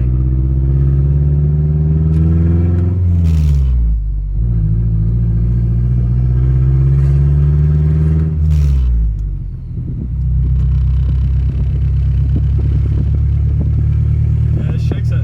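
A Mazdaspeed6 exhaust drones loud and close from inside the moving car, rising in pitch through two long pulls with brief dips at the shifts, then settling into a steady rumble.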